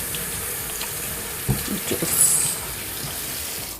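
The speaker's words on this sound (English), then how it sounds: "wash my hand" Hands are washed under a running kitchen tap, a steady close hiss of flowing water with brief splashy rises as the hands move through it; a voice speaks a single word.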